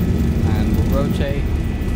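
An airliner's engines roar steadily at high thrust as it rotates for takeoff in the X-Plane 12 flight simulator, a dense continuous low rumble with no break.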